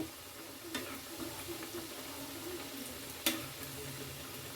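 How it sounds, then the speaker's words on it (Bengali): Khasta kachori stuffed with chhatu frying in hot oil, a low continuous sizzle with a couple of sharp clicks from utensils against the pan, quiet and close. "এবার ভালোভাবে লাল লাল করে ভেজে নেব"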